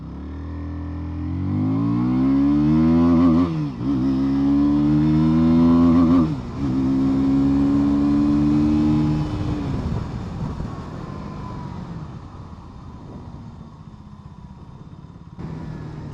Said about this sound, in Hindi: यहाँ पर थोड़ा सा आपको एक्सेलरेशन दिखा देता हूँ।